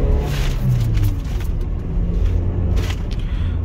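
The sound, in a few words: Toyota Innova Crysta petrol car accelerating hard in second gear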